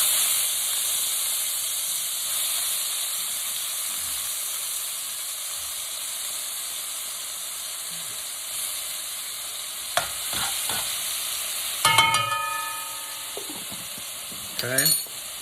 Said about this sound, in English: Saute some garlic.